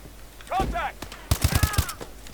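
A rapid burst of game gunfire from a downed, wounded enemy in Call of Duty: Advanced Warfare, several sharp shots in quick succession, following a brief stretch of someone talking.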